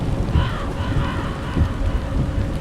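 Heavy, unbroken rain pours down with low thunder rumbling through it. The storm stays loud and steady throughout, with no voices.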